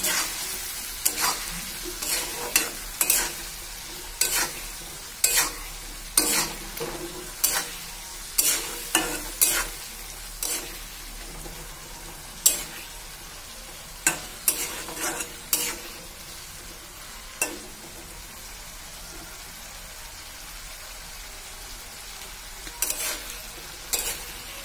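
Eggs frying with onion in a pan, stirred repeatedly, with steady sizzling under a string of sharp scraping strokes from the spoon against the pan, spaced a second or two apart.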